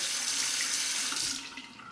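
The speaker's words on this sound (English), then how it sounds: "I'll temper it under the cold water." Cold water from a tap runs steadily with a bright hiss, then softens as a Merkur 23C safety razor passes under the stream.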